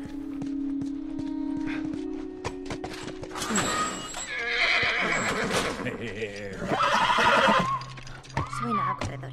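A horse in the video game The Last of Us neighs loudly and snorts amid clopping hooves, with a steady game hum and a person talking over it.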